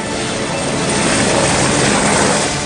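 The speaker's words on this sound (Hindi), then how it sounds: "इन हेलीकॉप्टरों में भारतीय वायुसेना के हेलीकॉप्टर भी थे।" Indian Air Force rescue helicopters flying over the Everest region after the Nepal earthquake, a loud, steady, broadband rotor and engine roar that fills the whole clip without pause.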